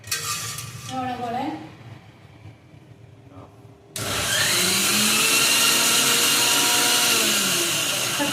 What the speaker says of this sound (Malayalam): നമുക്ക് അരച്ച് കഴിക്കാനുള്ള പച്ചമുളകാണ് ഇവിടെ മിക്സിയിൽ ചേർന്നതാക്കി വെച്ചിരിക്കുക